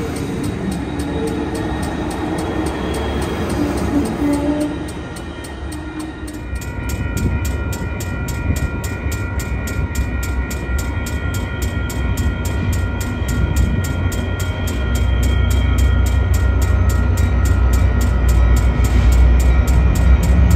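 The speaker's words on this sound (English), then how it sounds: "Amtrak No. 8, the eastbound Empire Builder." Amtrak's eastbound Empire Builder passenger train rolls past in downtown Chicago at rush hour, a loud, building rumble with a rapid rhythmic clatter of wheels over rail joints that swells and continues steadily for the whole stretch.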